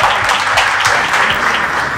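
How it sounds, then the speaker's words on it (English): An audience at a medical quiz final at Army College of Medical Sciences, Delhi, applauds the runner-up team with brisk, steady clapping from many hands, close and loud throughout. "Give them a big round of applause."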